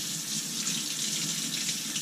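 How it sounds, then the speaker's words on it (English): Steady hiss of tap water running into a kitchen sink for hand washing before cooking, continuous and close for about two seconds. "we've got to wash our hands and then we'll get cooking"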